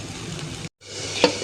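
Chili powder frying and being stirred in a pan while a fish curry is cooked, a soft sizzle with a brief scrape, cut by a short silent gap.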